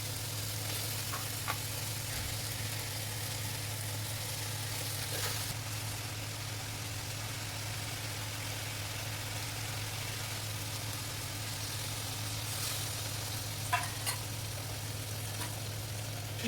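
Chicken cooking in a pan for biryani, with a low, steady sizzle and a constant hum underneath, plus a few faint stirring clicks and scrapes.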